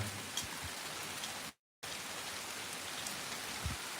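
Soft, steady rain falling on freshly sprayed crop fields, a faint even hiss with occasional drops, briefly cutting out.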